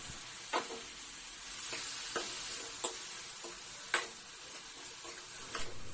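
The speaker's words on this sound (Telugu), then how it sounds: "ఎండుమిర్చి అండ్ పచ్చిమిర్చిని కూడా వేసుకొని అలాగే టమోటా ముక్కల్ని కూడా వేసుకొని బాగా ఫ్రై చేసుకోవాలన్నమాట" Dry red chillies, green chillies and tomato pieces frying in a pan for gongura pachadi, a steady soft sizzle with occasional sharp pops and spatula scrapes spaced a second or so apart, close and fairly quiet.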